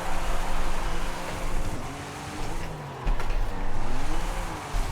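A car engine driving in Forza Horizon 5, a steady droning run with shifting pitch and a few rises as it speeds up, loud and continuous.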